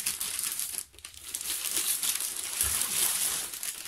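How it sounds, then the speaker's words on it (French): Cellophane packing paper crinkling inside a cardboard box, close and continuous rustling with a brief pause near the start, alone without talk. "Il y a un papier de cellophane au-dessus dans le carton pour tout caler et tout, que rien ne bouge."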